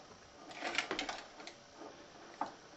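Sewing machine running a blanket stitch, a quiet burst of rapid mechanical needle clatter followed by softer intermittent ticks, heard close and alone.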